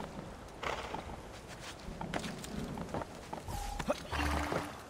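Hooves clip-clop from a horse in the video game Assassin's Creed 2, fairly quiet and uneven, with a few short game interface tones near the end.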